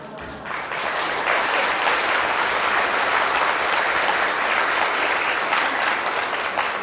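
Sustained applause from an audience at a talk, a dense wash of many hands clapping that swells quickly after a brief opening and holds steady and loud.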